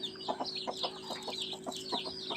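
A hen clucks softly and repeatedly while her day-old chicks, freshly hatched, some black and white, peep in rapid high-pitched chirps close by.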